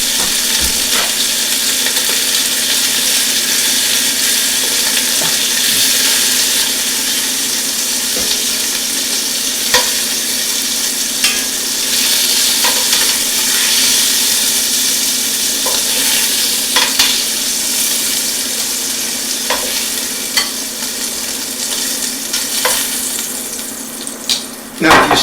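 Meat for birria sizzles and browns in a pot with a loud, steady frying hiss. Occasional scrapes and taps of stirring come through near and clear.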